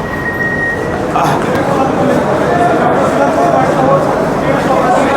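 The Sealdah–Ranaghat AC local train runs with a steady, loud rumble heard from inside the carriage, with a constant rolling drone and passengers chattering underneath.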